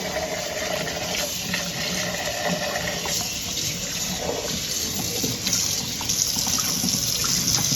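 Running tap water pours steadily into a sink while a turkey cavity is rinsed, a loud continuous splashing rush with slight shifts as the bird is turned.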